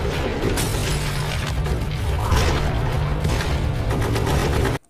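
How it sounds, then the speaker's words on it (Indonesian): Sustained, dense gunfire and explosive booms fill a film shootout between a special forces unit and rebel troops, a loud continuous barrage with no talk, cutting off abruptly at the end. "Baku tembak pun tak bisa dihindari oleh kedua pihak."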